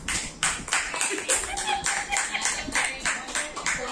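A family claps together to welcome a father home, a quick run of overlapping handclaps going on for several seconds, fairly close by.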